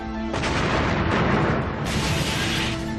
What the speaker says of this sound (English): the air is shattered by a massive explosion